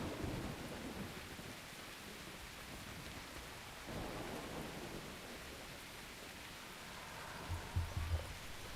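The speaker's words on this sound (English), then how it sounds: "it's actually raining in game" Steady rain hiss with low rumbling thunder in World of Warcraft's Zul'Aman zone, a continuous wash of rainfall with a few heavier rolls toward the end, no voices.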